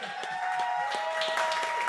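Scattered hand claps from a small concert audience, sparse and uneven, sounding over a steady sustained musical tone in the room.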